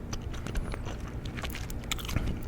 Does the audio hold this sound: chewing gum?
yes